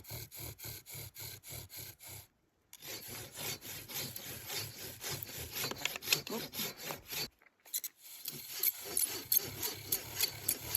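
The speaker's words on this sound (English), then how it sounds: "I'm attempting a fire by friction." Rhythmic wooden grinding of a bow drill making fire by friction at a lakeside camp in the Canadian Rockies, fast back-and-forth strokes in steady bursts, broken by two short pauses before the sawing motion resumes.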